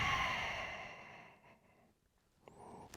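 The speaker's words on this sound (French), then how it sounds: "Et on expire." A slow, audible exhale through the mouth during a gentle morning body-awakening breathing exercise, a soft breathy rush that starts strong and fades away over about a second and a half, followed by quiet.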